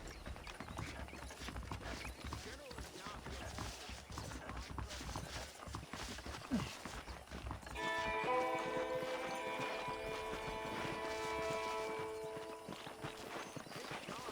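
Horse hooves clip-clop at a steady walking pace in the Red Dead Redemption video game, close and continuous, with a sustained tonal music chord rising in partway through.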